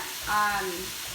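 Vegetables sizzle and hiss steadily in a hot pan during a stir fry, with a brief swell of frying noise in a short moment.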